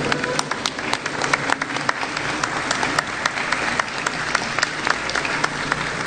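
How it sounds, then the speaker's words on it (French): An audience at a BRH office management and human resources convention applauds steadily for several seconds, a dense, even wash of many hands clapping in a large room. "Sous vos applaudissements, s'il vous plaît."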